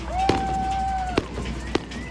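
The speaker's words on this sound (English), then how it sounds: "Someone lit fireworks outside the construction site." Fireworks set off outside a construction site during a street protest give three sharp bangs spread over two seconds, heard amid crowd noise and a long whistling tone.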